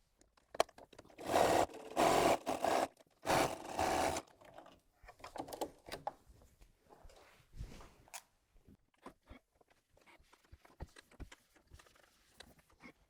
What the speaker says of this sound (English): And then I'm just going to go back to the machine and join that one side.